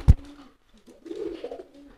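A racing pigeon gives a loud, close coo, with a sharp flutter or tap at the start and then a low, rolling throaty call.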